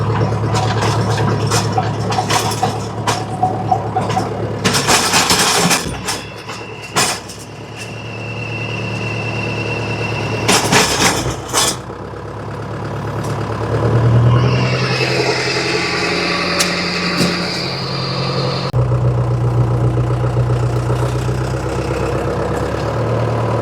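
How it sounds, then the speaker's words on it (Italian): A Same Dorato tractor fitted with a post-hole auger for a vineyard row runs loud and close, its engine chugging steadily, with clattering bursts early on and a rising mechanical whine through the middle. "stiamo procedendo come prima cosa con il same dorato a cui abbiamo attaccato la trivella per andare a fare"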